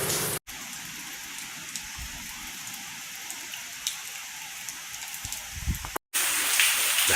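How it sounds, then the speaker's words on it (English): Heavy rain from Tropical Storm Debby falls steadily in Virginia's Shenandoah Valley, a dense continuous hiss with scattered louder drops, broken by two brief dropouts. "Significant rainfall entering the area."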